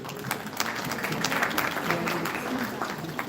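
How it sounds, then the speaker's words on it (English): Workshop audience clapping after a talk at an infertility medical conference, a steady mass of applause sounding somewhat distant and roomy, with voices murmuring underneath. "So let's clap for him."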